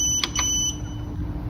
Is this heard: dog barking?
no